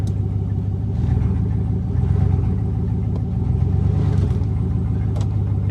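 A 2019 Chevrolet Silverado pickup creeping along under its own engine power, a steady mid-pitched engine drone with a low rumble, close and continuous, with no talking over it.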